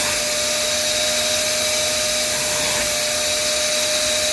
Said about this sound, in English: You can see the water being vacuumed back up in there.